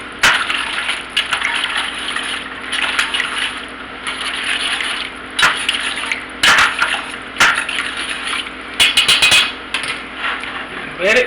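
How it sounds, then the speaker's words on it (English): Gravy is whisked in a pan after water is added, giving a steady wet swishing and scraping that continues throughout, loud and close. "And whisk it around."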